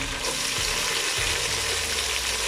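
Minced keema fries hard in a pan, a loud, continuous dense sizzle with occasional stirring scrapes, heard up close with no talking.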